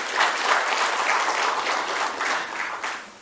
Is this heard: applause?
yes